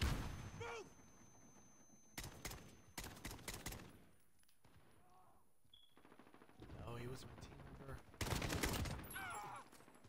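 Bursts of automatic gunfire from a Call of Duty Modern Warfare match, several loud rapid volleys separated by quieter stretches, with voices talking between and under the shots.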